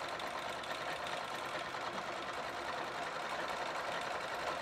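A 4-in-1 sewing machine runs steadily and fairly quietly at close range, a continuous even whir with no pauses and no talking.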